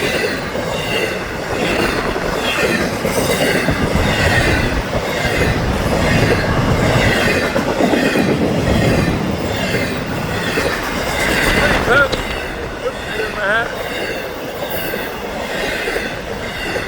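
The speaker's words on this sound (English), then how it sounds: "this is the train out of Miami. Here comes all the Seaboard Marine." A freight train out of Miami carrying Seaboard Marine containers rolls past continuously with heavy rumbling, rattling cars and occasional squealing wheels, loud and close throughout.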